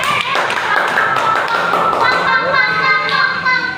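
Classroom applause for the answering group rings out as brisk, close clapping from several students, continuous and fairly loud, with voices chattering over it toward the end.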